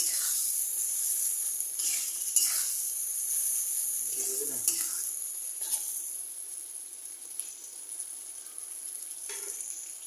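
Chopped tomato hits a frying spice paste seasoned with salt for a liver bhuna and sets off a steady, close sizzle. The hiss holds through the whole stretch, with soft stirring scrapes under it and no talk.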